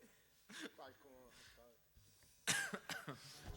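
A few sharp coughs ring out at a live music session, faint and close, mixed in with murmured speech and throat clearing.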